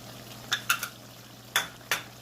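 A spoon stirs chicken liver and chickpeas (kaleji chana) in a pan, giving a few quiet, close scrapes and clinks in two short pairs over a low steady hum.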